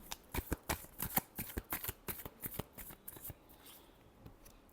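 Tarot cards are shuffled up close in quick, crisp riffling bursts with a steady rhythm, then taper off to softer rustling.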